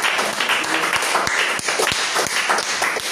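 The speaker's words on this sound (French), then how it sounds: "On acclame encore le Seigneur." A church congregation applauding in praise of the Lord: a brief burst of scattered, uneven hand claps with a busy room background, moderately loud.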